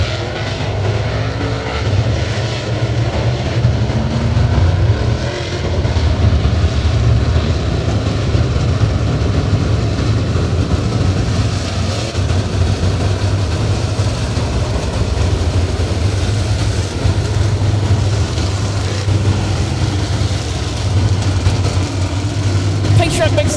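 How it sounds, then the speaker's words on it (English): Dirt modified race cars at Virginia Motor Speedway run their engines together in a loud, steady, droning roar that holds for the whole stretch, with faint voices mixed in. "Gentlemen, start your engines."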